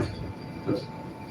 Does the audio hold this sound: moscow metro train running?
yes